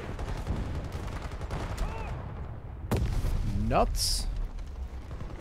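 A grenade launcher explosion bursts out in the Battlefield 2042 video game amid ongoing gunfire, a sudden broadband blast near the midpoint followed by a sweeping whoosh, with someone talking over the action.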